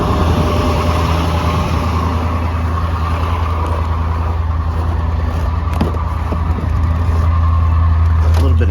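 A 2020 Ford F450 engine runs rough just after a remote cold start at -28, a steady low diesel-like rumble broken by irregular sputters and uneven pulses.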